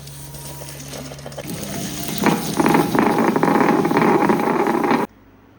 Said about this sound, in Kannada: ಅದಕ್ಕೆ ನಾನು ಇವತ್ತು ಗ್ರೈಂಡರಲ್ಲೇ ಗ್ರೈಂಡ್ ಮಾಡೋದು